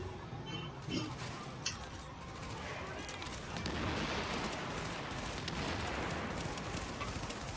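Gunfire and explosions crackle through a co-op firefight in The Division. A dense, continuous barrage of shots sounds close and loud, with a heavier rumbling blast building toward the end.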